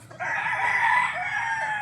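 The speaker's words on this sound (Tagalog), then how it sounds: "mayroon ka ng ganitong manok" A rooster crows loudly and steadily, with chickens clucking nearby; no voices.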